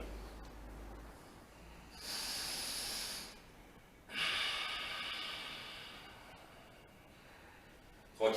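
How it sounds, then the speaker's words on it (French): Slow, deep yoga breaths, one long airy inhale and then a longer exhale, soft and close, separated by quiet pauses in a calm room. "Une respiration profonde."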